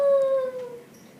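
A person imitates a coyote howl with one loud, sustained, slightly falling tone that fades out over about a second.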